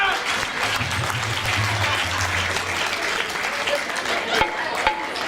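A Holi celebration crowd at Vishwa Hindu Mandir breaks into dense, sustained applause, loud and close, with a low murmur of voices underneath and a couple of sharp knocks near the end.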